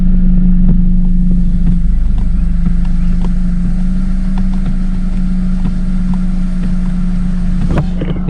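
Mercedes W203 C-Class with a 722.6 automatic transmission, engine running warm at idle: a loud, steady low hum and rumble, recorded up close, with faint clicks scattered through.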